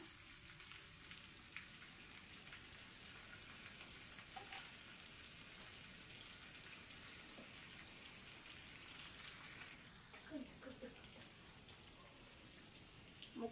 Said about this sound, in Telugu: ఉప్పు కారం అన్నీ పట్టించి ముక్కలకి పెట్టాం కదండి అవి ఇందులో వేసేసుకుందాం